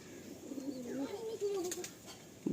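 A Kalasabuj pigeon coos softly nearby, a few low rolling calls in a quiet room with faint rustling.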